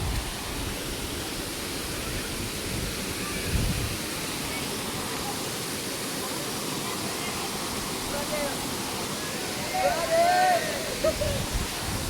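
Kambais Falls waterfall pouring in a steady, broad roar of rushing water, with a voice briefly audible over it near the end.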